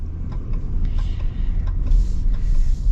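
The new high-output engine of a 2025 Ram 1500 Limited pickup hums as the truck accelerates, a steady low rumble that swells slightly toward the end, heard from inside the cab with no talking.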